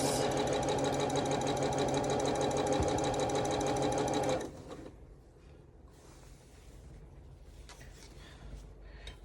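A sewing machine stitches a quilted table runner at a fast, steady rattling rhythm for about four seconds, then stops, leaving faint handling noises and quiet room sound.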